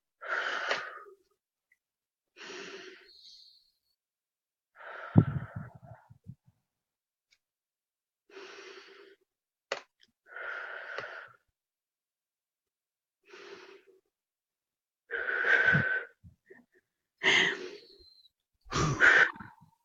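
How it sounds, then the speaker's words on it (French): Slow, deep breaths in a quiet room, about five long inhales and exhales spaced a couple of seconds apart, close and fairly soft, with a few audible sighing releases. "respirer profondément 5 fois"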